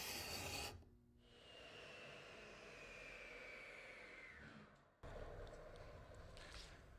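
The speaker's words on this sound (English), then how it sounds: "It's a gooseneck scraper. It's perfect to fit into our Cove and scrape down the wood to a nice," A gooseneck scraper drags along wood in a cove, giving raspy scraping strokes. One short stroke is followed by a long, steady pass, then another stroke begins, close and quiet.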